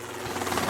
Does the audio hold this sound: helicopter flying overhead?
yes